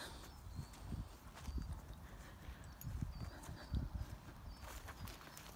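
Dogs race across the ground during a game of fetch, their paws pounding in a rapid, uneven drumming like galloping hooves, fairly faint and steady, with light outdoor background noise.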